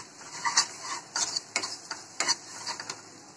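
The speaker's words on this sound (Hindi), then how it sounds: "इन मसालों को अच्छे से मिक्स करेंगे।" Spices stirred into a potato burger filling with chaat masala, salt and amchur powder, a string of light scraping and tapping strokes from a spoon against a pan, close and fairly quiet, with no voices.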